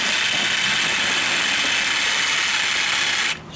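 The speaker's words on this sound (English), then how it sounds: "If you don't, you want to use your sawzall," A corded reciprocating saw, a Sawzall, runs on low speed, giving a loud, steady, harsh buzzing whine that continues unbroken for several seconds before cutting off abruptly near the end.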